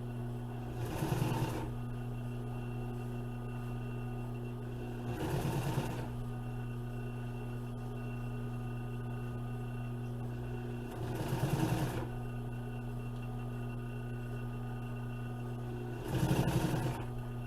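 A sewing machine top-stitches an upholstery cover for a 1955 Chevy in four short bursts of rapid stitching, each a few seconds apart, over a steady low hum.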